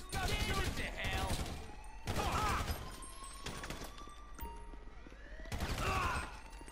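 Heavy bursts of gunfire during a heist shootout in GTA V, loud volleys with crashing impacts, while players talk through the action.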